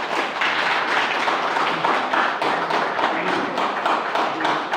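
Dense, steady clapping from an audience fills the whole stretch, a continuous crackle of many hands with no pauses, loud and close throughout at an Independence Day eve felicitation event.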